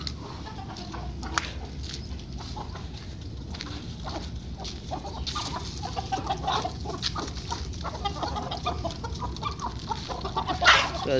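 A hen clucks in a backyard poultry setting among other chickens, with soft, irregular clucks over a low steady background hum that grow busier toward the end.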